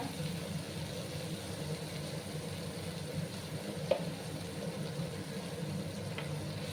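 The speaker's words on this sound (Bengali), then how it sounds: "মশলাটাকে ভালো করে আমি কষিয়ে নেব।" Spice paste with green chilies, turmeric and a splash of water fries in a pan over low gas for a ridge gourd and gram flour dish, giving a steady, quiet sizzle with a faint tap or two and no talking.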